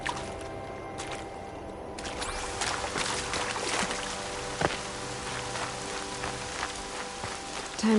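Steady rain patters and hisses on surfaces in the Horizon Zero Dawn video game, a dense continuous wash with a few louder drops and thuds, heard alone without speech.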